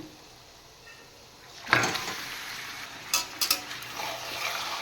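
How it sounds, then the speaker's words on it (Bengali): Raw chicken pieces hit a pan of already fried onions and burst into a loud hiss that settles into steady sizzling, followed by a few sharp clinks of a spatula against the pan. "এবার চিকেনগুলো সহ একটু ফ্রাই করব"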